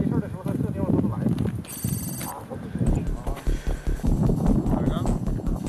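A telephone gives one short, bright burst of ringing in the middle, surrounded by people talking at close range.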